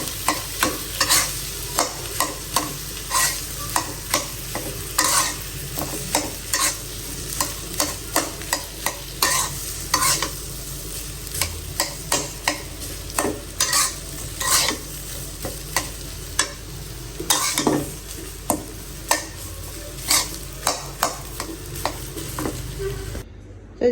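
Pieces of meat frying in hot oil while a home cook stirs, with steady sizzling and frequent sharp clinks and scrapes of a utensil against the pan throughout, close and fairly loud with no talking.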